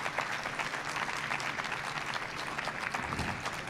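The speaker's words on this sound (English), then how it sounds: "Give him another round of applause, please" Audience applause for author Kevin Young at a Cleveland Book Week event at Worthington Yards, a dense, steady wash of many hands clapping that holds evenly for the full stretch without voices.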